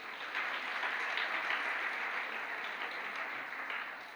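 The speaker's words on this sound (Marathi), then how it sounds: "मला वाटतं हे ज्यांनी कोणी लिहिले त्यासाठी जोरदार टाळ्या पाहिजेत" An audience at a Gurukul Maha Aarti gathering claps continuously, producing a dense, even round of applause that holds steady throughout and tapers slightly at the end.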